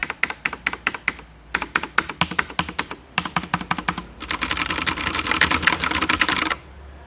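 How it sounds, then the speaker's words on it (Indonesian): A Cooler Master MasterKeys Pro M RGB mechanical keyboard with blue switches clatters in crisp, close keystroke bursts, separate taps in short runs followed by a denser rapid flurry of typing, with no voices. "Meskipun ini Blue Switch, tapi dengan keycaps yang diberikan oleh Cooler Master, suara renyahnya seperti jadi agak bulat"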